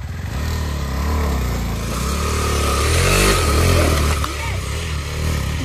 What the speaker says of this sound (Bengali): অরিজিৎ বাইক নিয়ে যাবে।